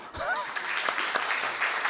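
A burst of applause at a Sunday church service rises quickly and continues, many hands clapping together in a room.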